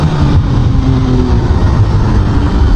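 A four-cylinder Honda CB500SF sport naked motorcycle revs up, its engine pitch climbing through the gears. The tone is loud, steady and close, with a continuous mechanical drone and no talk.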